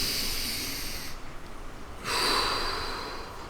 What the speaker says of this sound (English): Okay, deep breath in.